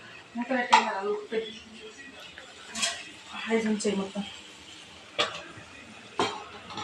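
A cooking pot is covered with its lid, giving a few sharp metallic clinks and clatters scattered between stretches of nearby talking.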